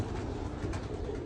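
Pigeons cooing on a pigeon farm with about a thousand pairs of native and hybrid birds, soft overlapping coos forming a quiet, continuous murmur with no talk.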